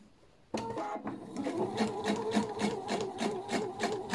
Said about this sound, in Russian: в конце тоже мне закрепка не нужна, я прокладываю строчку